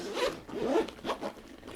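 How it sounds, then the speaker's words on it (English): A YKK zipper is pulled along a travel bag in several quick, rasping strokes, close up and fairly loud, with no talking. "These zippers are so nice. And these are strong zippers too."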